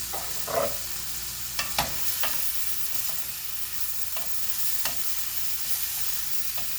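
Green tomato goes into vegetables cooking in a pan, making a continuous close sizzle broken by several sharp scraping stir strokes. No one speaks.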